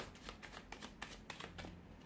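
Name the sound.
tarot cards being shuffled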